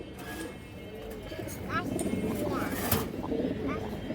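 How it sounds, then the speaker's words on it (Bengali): A male silver bagha khaki pigeon coos in soft, repeated calls close by, partly buried under a person talking throughout. "নরের ডাকটা দেখেন দর্শক, একদম পিওর জোড়া।"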